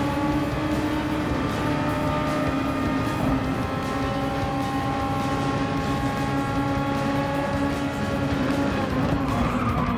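Onboard racing-game lap in a custom SF23 single-seater at Suzuka Circuit, a steady high-pitched engine whine with shifting harmonics and tire noise holding loud and constant throughout, no talk.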